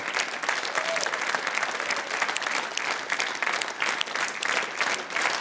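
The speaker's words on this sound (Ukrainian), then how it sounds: "Ще раз ваші аплодисменти" An award-ceremony audience at the Miss Sport Ukraine 2009 event applauds with sustained, dense clapping from a large crowd that fills the whole stretch at a steady loudness.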